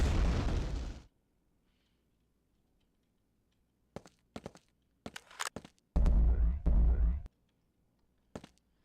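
Booming explosions and turret gunfire in Quake II: a loud blast at the start, a lull, then a scattered run of sharp shots and heavier bursts, with faint game ambience between.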